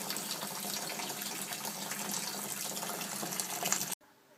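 Continuous rushing stream of tap water running into a mash tun and rinsing the grain while brewing a pale ale, steady and close, cutting off abruptly near the end.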